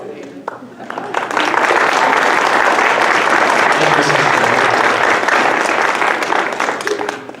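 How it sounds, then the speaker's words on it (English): An audience at a live one-act play breaks into sustained applause, a broad wash of clapping that swells after the first second and holds steady before tapering, with voices mixed in. "We need to give a big round of applause."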